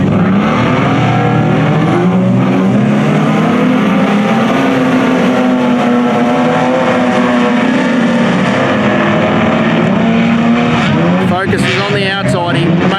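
Race cars roar around the track in the 100 lapper race, a loud sustained engine drone rising and falling in pitch as they pass, with a commentator talking over it.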